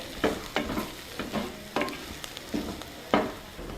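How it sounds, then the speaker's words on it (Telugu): Bitter gourd fry is stirred in a pan with crushed cumin, onion and salt, a steady run of spoon-on-pan scrapes and soft sizzling at a moderate, close level. "దీన్ని కాకరకాయ ఫ్రైలో వేసి బాగా కలుపుకోవాలి ఆ ముక్కలకి మొత్తం పట్టేటట్టు"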